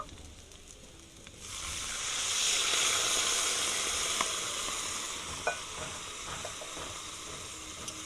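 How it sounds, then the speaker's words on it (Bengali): Water poured into frying vegetables for sukto sets off a sudden rush of sizzling and steamy hiss that swells, then settles into a softer steady fizz with small pops, close and alone. "আমি এবার এর মধ্যে জল দিয়ে দেবো"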